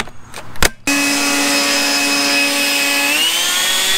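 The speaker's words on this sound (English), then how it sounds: "my favorite piece of equipment from this line so far, and that is the blower" Toro 60V battery-powered leaf blower spins up after a few clicks and then holds a steady loud whine with a strong tonal hum, rising slightly in pitch near the end.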